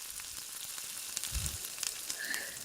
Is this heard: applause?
no